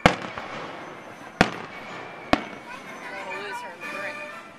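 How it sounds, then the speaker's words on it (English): Fireworks explode over Georgetown Harbor, Maryland, at a 2011 Fourth of July celebration: three sharp, loud booms spaced about a second apart over a steady crowd hum, with people chatting nearby. "here we go with the fireworks"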